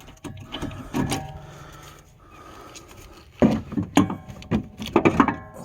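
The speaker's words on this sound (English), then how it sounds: "And our pry bar, it should just slide off of there." A pry bar levering a brake caliper off a 2008 Mustang GT, with sharp metallic clanks, scrapes and knocks in irregular bursts, close by, separated by a quieter pause.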